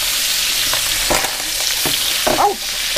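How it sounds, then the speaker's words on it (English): Steady broadband sizzle of bacon frying in a pan, with a few scrapes and clinks of a utensil stirring near the close. "Sizzling up."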